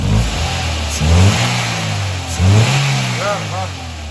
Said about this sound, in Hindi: ये आप साउंड देखें हमारे इंजन का माशाल्लाह बिल्कुल ओरिजिनल हो गया